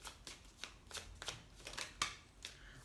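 Lenormand cards being shuffled for a tarot reading, a soft papery riffling in irregular bursts, close and quiet with no talk.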